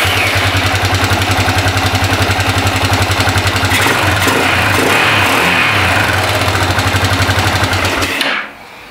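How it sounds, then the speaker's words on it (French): A Yamaha motorcycle that cuts out at 110 km/h idles loudly up close with a steady, throbbing rhythm, revs briefly in the middle, then shuts off abruptly near the end. No one talks. "La moto fonctionne."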